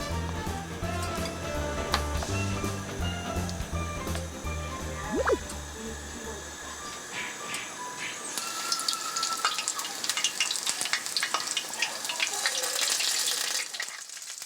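Food fries in hot oil with a steady crackling sizzle, close and continuous, with a low hum underneath during the first half; skewered octopus and rice cakes frying indoors, with rain falling outside.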